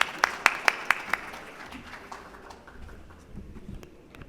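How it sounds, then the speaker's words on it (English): At a pharmaceutical industry awards ceremony, a few sharp, distinct claps ring out close by in a quick run, then quickly thin out into quiet room noise. "very big round of applause, please?"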